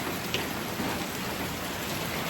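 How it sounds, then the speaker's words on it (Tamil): Heavy rain pours steadily and loudly on a rainy day during Deepavali, a dense continuous hiss of falling water with no voices. "மழை விடுற மாதிரி தெரியல"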